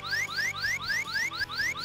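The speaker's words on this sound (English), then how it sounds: "you'll hear a warning beeping sound like this." In the Big the Cat fishing video game, a warning beep sounds when the fishing reel meter reaches red. It is a fast, steady train of rising electronic chirps that repeats about every quarter second and plays alone.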